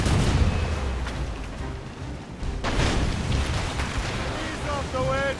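Ship cannons fire in the naval combat of Assassin's Creed Rogue, loud repeated booms and rumbling blasts that roll together, with shouting crew voices and whistling shots over the din.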